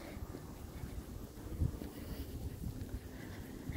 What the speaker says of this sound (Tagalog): Mahangin. Grabe, super hangin.